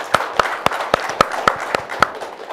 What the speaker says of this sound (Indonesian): tepuk tangan dong untuk menyenangkan semua